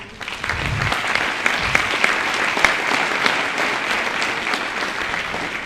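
A high school winter band concert audience breaks into loud, sustained applause, many hands clapping densely and evenly with a few sharper claps standing out, filling the hall without any talking.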